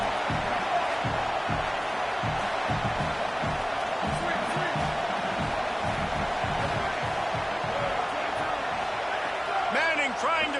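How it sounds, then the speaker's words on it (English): A stadium crowd cheers loudly in a Madden/NCAA football video game on second and goal, a dense continuous roar with rhythmic low thumps like stomping and a few shrill whistles or whoops near the end. "These fans raising the volume on second and goal."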